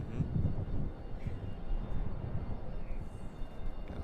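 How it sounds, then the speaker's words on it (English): A Southwest Boeing 737-8 MAX airliner on short final to land at Raleigh-Durham airport gives a steady, fairly loud low engine roar that holds throughout, with no talk. "Coming in from Baltimore. 737 Max."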